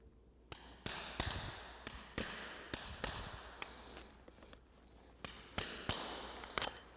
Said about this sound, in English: popping the nail up so that we can grab it with our nail puller